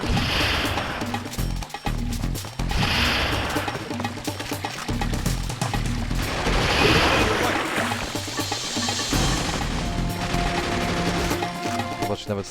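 Rapid bursts of gunfire in the Sega Dreamcast shooter Outtrigger crackle repeatedly over busy game sounds, with someone talking over them at times.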